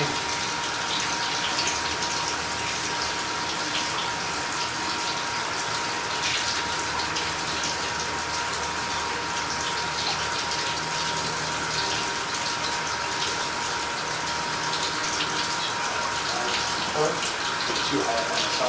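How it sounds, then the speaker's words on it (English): Water runs steadily near an outdoor camera, a constant loud hissing gush that holds unbroken throughout with no pauses. "Try and get some water running."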